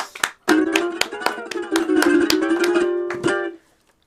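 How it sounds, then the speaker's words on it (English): Applause for a performer at a live variety show, heard as a run of sharp, fairly close claps with a sustained tonal sound underneath, stopping abruptly near the end. "give Percy Copley another round of applause, please."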